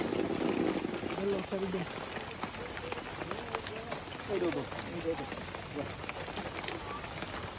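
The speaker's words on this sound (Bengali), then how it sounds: "বৃষ্টির ভিতর ভিজতে ভিজতে আমার অবস্থা শেষ।" Rain pours steadily on an outdoor fishing spot, a dense continuous hiss and patter with no clear breaks, fairly close and even in loudness throughout.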